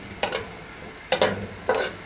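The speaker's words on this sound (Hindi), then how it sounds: "हल्का सा सौते करेंगे। वेजिटेबल्स का क्रंच बकाया रहना चाहिए" Vegetables for chicken shashlik are sautéed lightly in a pan, with three short bursts of spatula scraping and sizzling spaced roughly a second apart, close and fairly quiet.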